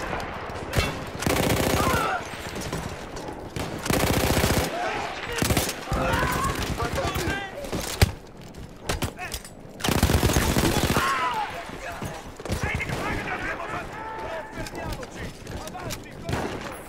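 Mounted machine gun in Battlefield 1 firing long loud bursts in a World War I battle, with rapid fire separated by short pauses and other battle noise between bursts.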